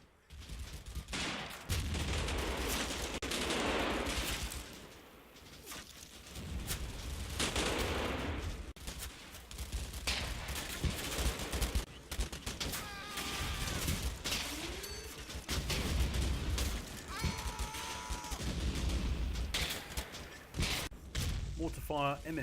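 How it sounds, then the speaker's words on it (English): Mortar and medium machine gun fire with 37mm high-explosive rounds in a Combat Mission Fortress Italy battle against a flanking German force, heard as scattered thuds, bursts and rattling volleys beneath ongoing narration. "Mortar fire, MMG fire and HE rounds from 37mm guns soon chased off the flanking German force."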